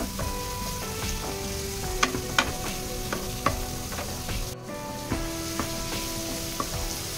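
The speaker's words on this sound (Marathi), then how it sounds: "कांदा छान परतून घ्यायचा" Chopped onion sautéing in oil for a Bhandara-style potato curry, a constant close sizzle with intermittent sharp scrapes and clinks from a spoon stirring the pan.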